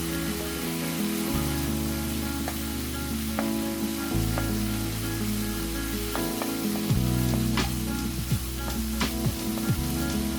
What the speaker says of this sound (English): After that, add rice cakes and keep stir-frying.